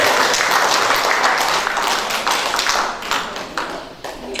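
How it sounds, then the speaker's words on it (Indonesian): Audience applause at a family gathering of SMKN 1 Sumberasih school staff, welcoming a young deputy: dense, steady clapping from many hands filling the room, easing slightly toward the end. "Tepuk tanganlah untuk"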